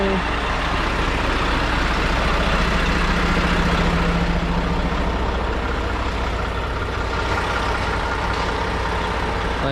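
A truck engine idles steadily, a loud, continuous low rumble that stays even throughout with no talking over it.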